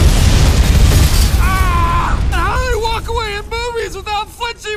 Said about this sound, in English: Explodes behind them.